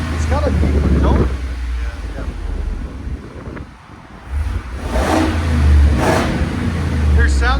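A Ford F-350 pickup with a 7.3L gas V8 and a louder exhaust revs with a deep, rumbling tone. Heavy wind buffets the microphone, and the engine swells in surges between lulls, close and loud.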